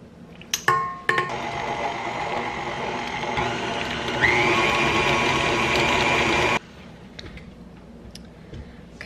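Butter being mixed for red velvet cake frosting with an electric mixer, a steady close whirring drone that starts after a few clicks, runs several seconds with a pitch shift, then cuts off abruptly.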